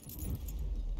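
Keys jangle briefly as a key is picked up in the video game DARQ, a bright metallic rattle lasting about a second over a low rumble.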